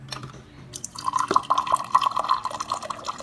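Water flowing from the reservoir of an LG side-by-side refrigerator, a close trickling stream that starts softly and settles into a steady, slightly bubbling pour into a container.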